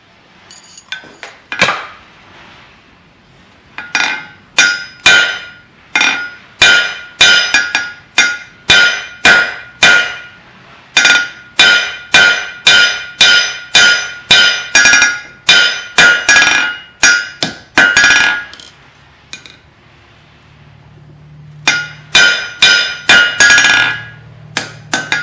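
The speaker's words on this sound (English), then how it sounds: "we're going to come over on the corner of the anvil and flatten this down" A hammer rings against hot steel on the corner of an anvil while a hook is forged, with loud, evenly spaced metallic blows repeating for many strokes, a brief pause, then a final quick flurry.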